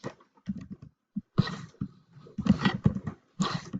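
Someone types a document name on a computer keyboard in short bursts of crisp, close key clicks separated by brief pauses, with no one talking.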